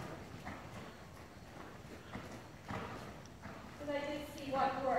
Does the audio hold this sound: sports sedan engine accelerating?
no